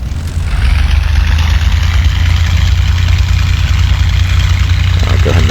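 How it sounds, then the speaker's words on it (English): A Spitfire engine in the DCS World flight simulator catches and settles into a loud, steady idle. The deep continuous drone holds evenly for several seconds. "In the DCS model, you would prime this, of course, and then you just hit the engine,"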